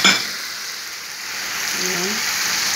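Mixed vegetables stir-fried in a pan make a soft sizzle, with a clatter of utensil on metal at the start and a faint tonal sound near the end.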